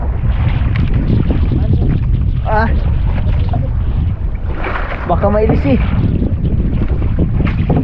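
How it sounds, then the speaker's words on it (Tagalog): Strong wind roars over the microphone at sea aboard a small paddled fishing boat, a loud continuous buffeting with water sounds beneath, while someone speaks briefly. "ang lakas kasi ng hangin."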